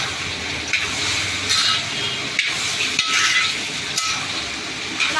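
Salted ivy gourd stir-fry is stirred in a pan, a continuous close sizzle with scraping and soft clinks of the spoon recurring every second or so, and no talking.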